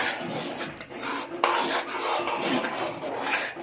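Sago halwa being stirred in a pan over a low flame, a continuous close scraping and rubbing of a spoon against the pan with no talk.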